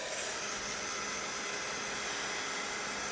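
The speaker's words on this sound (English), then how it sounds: "I'm just going to dry that really quick with my heat tool" A handheld heat tool blows steadily over a sprayed craft mat, giving a faint, even hiss-like whir that continues unchanged throughout.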